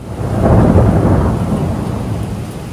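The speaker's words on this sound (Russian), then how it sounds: "у нас просто гром гремит, проливной дождь такой" Loud rumbling thunder rolls through steady heavy downpour outside a home, a continuous broad roar peaking early and easing slightly while rain keeps pouring throughout.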